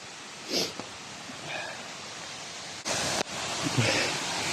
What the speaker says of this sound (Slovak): Tento vodopád má 70 metrov a patrí, myslím, že je druhý najväčší na svete.